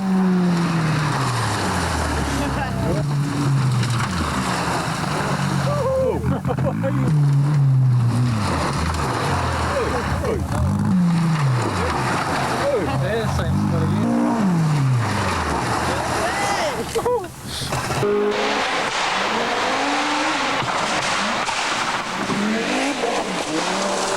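Rally cars from the 1985 AWA Clarion Rally in New Zealand race through a forest bend near Tokoroa, engines rising and falling in repeated loud passes with revving gear changes and tyre noise, a voice talking over them.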